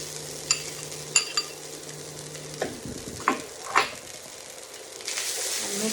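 Cooked white quinoa is stirred into a hot pan, with scattered clinks and scrapes of a utensil against the pan over a low sizzle, then a louder burst of sizzling toward the end.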